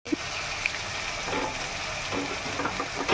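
Onion with chopped garlic frying in a pan, a steady, fairly quiet sizzle with soft bubbling and stirring scrapes throughout.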